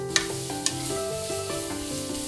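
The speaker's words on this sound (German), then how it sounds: "Möhren in die Pfanne geben." Continuous sizzle of carrots frying in oil in a pan, with a couple of sharp clinks of a utensil near the start.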